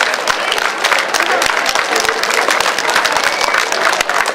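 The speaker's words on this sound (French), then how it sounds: "Je vais vous demander des applaudissements pour Monsieur le maire" Loud crowd applause for the mayor at a civic gathering in Rosny-sous-Bois, dense continuous clapping with sharp individual claps standing out and a hum of crowd voices underneath.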